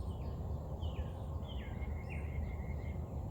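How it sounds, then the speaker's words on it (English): Faint, high bird chirps and short trilling calls drift over a steady outdoor hum in a backyard in early spring, several small calls spaced across the moment with no talking. "birds singing."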